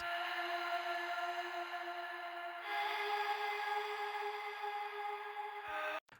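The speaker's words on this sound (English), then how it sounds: "I added another little melody line that basically just follows the chord progression." A bright synthwave synthesizer lead holds sustained tones that shift to new pitches partway through, moving along a chord progression before cutting off abruptly.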